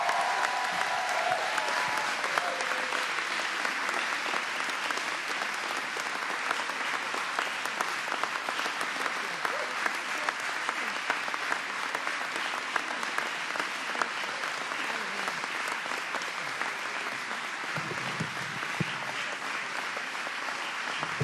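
A fired-up crowd applauds steadily and loudly for the entrance of New York Governor Kathy Hochul at a political rally, the clapping sustained and dense throughout with no talk over it.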